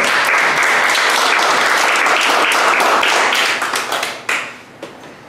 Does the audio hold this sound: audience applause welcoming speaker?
yes